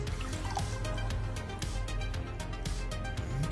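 Cold water dripping and trickling off an Ohhunt FB04 enclosed red dot sight after an hour submerged, a faint, steady patter of drips with a constant watery hiss underneath.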